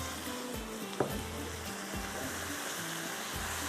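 Okra frying in a pan gives a steady, close sizzle while being stirred, with soft scraping strokes and one sharp tap near the start.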